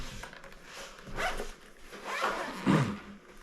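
A zipper is pulled along the carrying case of a Hohem iSteady Pro 4 gimbal in three short rasping strokes, close and fairly quiet, with no talking.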